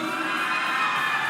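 Crowd cheers and shouts for finalists at the Unduk Ngadau Kaamatan beauty pageant in Kota Marudu, a dense, steady roar of many voices with high-pitched screams and whoops throughout, no speech over it.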